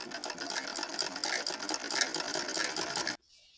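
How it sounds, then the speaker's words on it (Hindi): Sewing machine stitching fabric into a flared lower skirt for a Laddu Gopal deity dress, a steady, fast mechanical rattle running loud and close for about three seconds before cutting off abruptly into near silence. "अब सिलाई करेंगे जिससे कि भगवान का घेरदार नीचे का लहंगा तैयार हो सके।"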